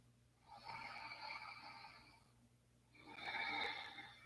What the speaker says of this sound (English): Coming back to that Ujjayi breathing.